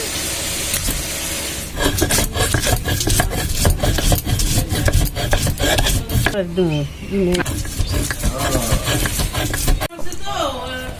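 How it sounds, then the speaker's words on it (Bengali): Coriander leaves and green chilli are ground with salt into a bhorta mash, giving repeated rhythmic scraping and rubbing strokes close by, with voices talking over parts of it. "আর এখন আমরা ভর্তাগুলো বেটে নিচ্ছি।"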